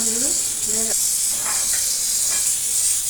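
Ponnaganti greens fry in a pan with a constant close hiss and sizzle, a few faint stirring clicks, and a voice speaking briefly over the start.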